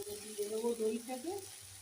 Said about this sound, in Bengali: মাংসগুলো ভাজা ভাজা হয়ে গেছে, দিয়ে দেবো আদা রসুনের পেস্টটা।